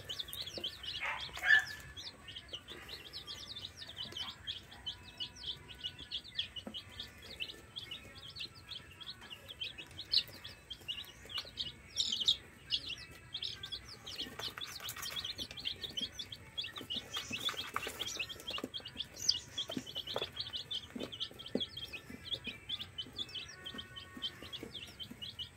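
Free-range chicks chirp repeatedly in high, thin peeps while scratching about on wood shavings, with occasional soft clucks in a fairly quiet setting.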